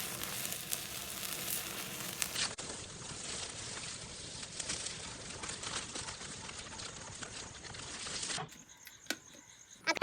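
Chicken roasting in oil in a pan gives a steady, fairly quiet sizzling hiss that runs for about eight seconds before cutting off into a quieter stretch.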